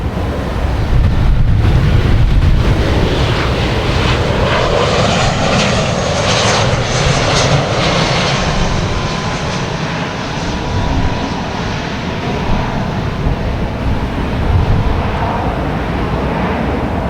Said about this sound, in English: So we did get your takeoff. That was you, the American Airlines.